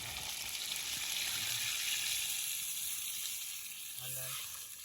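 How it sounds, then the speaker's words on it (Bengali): Loud steady sizzle of poultry skin curry frying in a pan, with a brief low voice murmur near the end as water goes in. "এখন জলটা দিয়ে দিও।"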